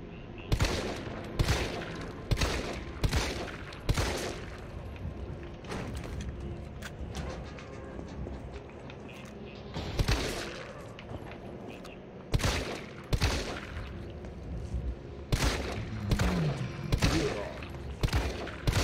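Bursts of gunfire ring out in Resident Evil 3 Remake, in repeated loud volleys with gaps between them, over a steady bed of game sound while people talk throughout.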